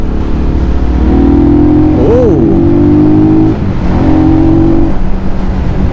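Loud, close Rusi Flash 150X fuel-injected motorcycle engine with an aftermarket exhaust pipe, holding a steady drone during a test ride with a quick rev swell, a brief dip, then resuming.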